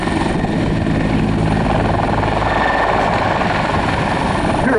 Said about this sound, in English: Pirouetting while this helicopter around and around it goes.